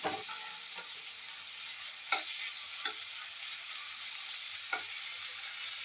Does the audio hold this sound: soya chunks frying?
yes